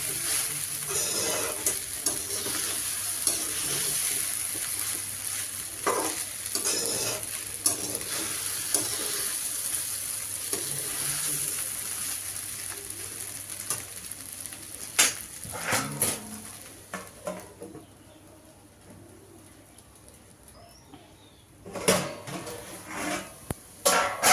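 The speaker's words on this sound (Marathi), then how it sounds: "आपण खिचडी छान परतून घेऊयात" Sabudana khichdi being stirred and sautéed in a pan, a continuous soft sizzle with scraping strokes of a spoon and occasional clinks against the pan, close and steady before easing off near the end.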